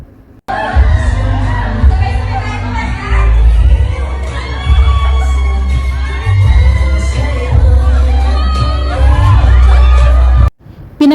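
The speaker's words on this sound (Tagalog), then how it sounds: "lalong kinilig at hiyawan ang mga fans nang makita nila sina Inigo at Sofia" Fans at a celebrity appearance shriek and cheer in loud, overlapping waves, high excited screams rising and falling over a booming crowd roar, with a brief drop near the end.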